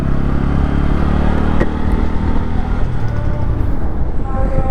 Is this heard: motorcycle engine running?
yes